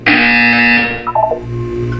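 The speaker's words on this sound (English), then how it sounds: "You will hear a buzzer." A loud, sustained electronic buzzer sounds in Portal 2, holding a steady tone for about a second before breaking into a few short, wavering beeps.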